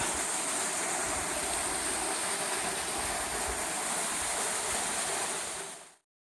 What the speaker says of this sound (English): I'm standing at the entrance to the Comet Tunnel right now, and still a fair amount of water coming out